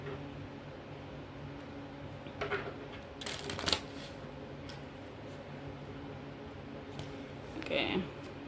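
Oracle cards being shuffled by hand in a quiet room during a love tarot reading, with soft riffling bursts and a few brief louder flicks over faint background hum.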